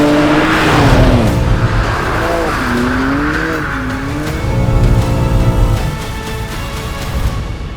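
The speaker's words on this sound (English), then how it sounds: "This is the M2 CS, and driving this car feels like the world's exploding." A BMW M2 CS with 530 horsepower roars under hard driving, loud engine notes rising and falling through revs and shifts, with tire noise and a brief squeal, close and intense throughout.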